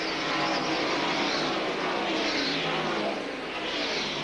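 Stock cars roar away at the start of a 1984 NASCAR twin 125 qualifying race, a dense, loud wash of engines sweeping past in overlapping waves.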